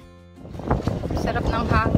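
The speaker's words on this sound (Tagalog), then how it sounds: "Sarap ng hangin." Wind rushes across the microphone during a boat ride, a loud, broad roar that rises after a brief quiet start and continues with some gusting, under people talking.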